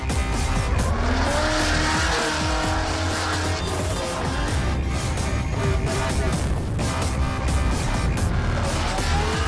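A Holden drift car on Achilles tyres skids at Mallala during an Australian drifting grand prix round, its roaring engine and wavering tyre squeal loud and continuous throughout.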